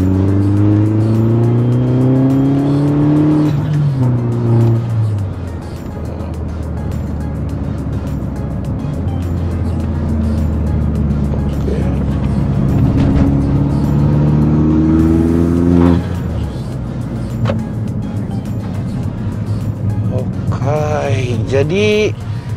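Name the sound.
tuned Mini Cooper S R56 engine revving with turbo spooling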